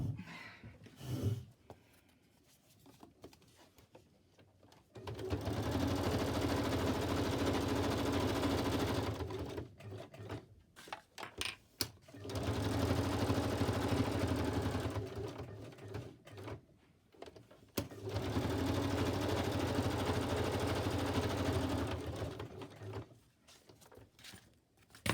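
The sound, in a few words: sewing machine stitching around paper ephemera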